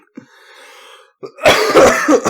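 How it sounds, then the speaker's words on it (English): A short harsh cough, then a steady hum, followed by a loud burst of several rough, throaty coughs close to the microphone. "I'm not leaving all of that coughing in."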